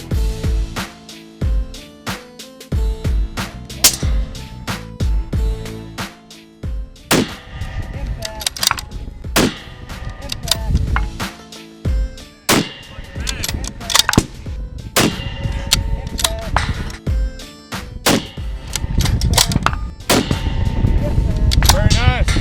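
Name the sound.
rifle bullet impacts on steel targets in precision rifle match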